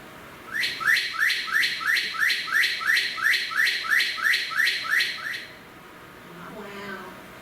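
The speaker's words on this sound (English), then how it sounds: "One of my favorite demonstrations of how complex birds are, bird song and vocalizations." A bird repeats a rapid series of about a dozen bright, evenly spaced chirping notes, close and clear, then falls silent before a fainter, lower call at the end.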